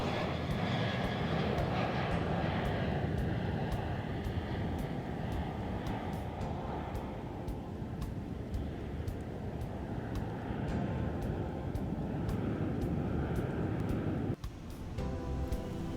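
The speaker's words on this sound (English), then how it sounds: "The pilots perform a go-around." Airliner engines roar loudly and continuously as a go-around is flown in an animated reconstruction of the Air India Express IX 1344 approach, a steady jet drone that drops away abruptly near the end.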